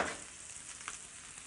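Fish sizzles quietly in butter in a frying pan, a soft, steady crackle with one brief louder pop and no voices.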